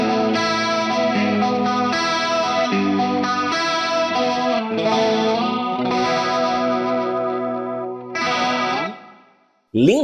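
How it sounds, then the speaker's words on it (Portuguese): An electric guitar runs through a Collateral FX Demoiselle analog chorus pedal into an amplifier, ringing chords with a shimmering, wavering chorus tone that is loud and steady and then briefly cuts out near the end. "Lindo som de chorus analógico"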